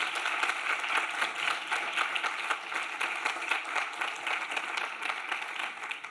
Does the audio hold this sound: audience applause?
yes